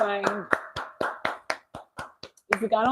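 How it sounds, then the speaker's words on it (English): A single person clapping in a steady rhythm, about a dozen crisp, close claps with short gaps, framed by a voice talking at the start and end. "let's clap for ourselves"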